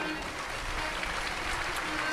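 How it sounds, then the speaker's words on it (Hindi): Applause from a large audience at a Hindu religious discourse gathering, steady dense clapping filling the whole stretch at moderate level. "जोरदार ताली बजा के धन्यवाद दो"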